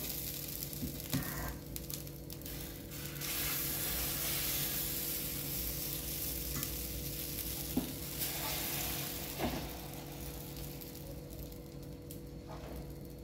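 Water is sprinkled onto a hot dosa pan over low heat. A continuous soft frying hiss runs under a low steady hum, with a few faint crackles and spurts along the way.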